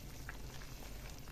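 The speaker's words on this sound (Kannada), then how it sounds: "ಈಗ ಕುದೀತಿದೆಯಲ್ಲ" Water bubbling steadily in a pot on a stove while upma is being cooked, a soft continuous rolling simmer with faint pops, heard close and alone.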